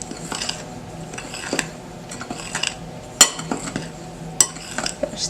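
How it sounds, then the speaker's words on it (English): A spoon stirring dry chocolate cake ingredients in a bowl, giving soft scraping strokes with a few sharp clinks against the bowl, close and without talk. "you just want to mix that together, a lovely spoon, until the dry ingredients are incorporated"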